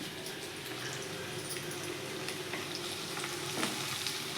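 Ginger and crushed kasuri methi fry in hot oil for a chicken liver curry, giving a continuous close sizzle with light crackles and occasional stirring.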